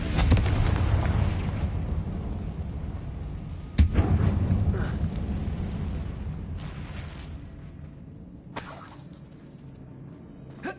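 Confringo fire spell blasting in the Hogwarts Legacy video game, with loud booming explosions near the start and again around four seconds, followed by a rumbling decay and a smaller burst later.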